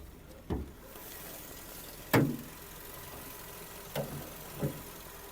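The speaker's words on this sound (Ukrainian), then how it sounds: "двигун працює чітко, помилок немає" A Skoda Octavia engine idles with a steady, even hum, running cleanly, broken by a few sharp clicks and knocks spaced across the recording.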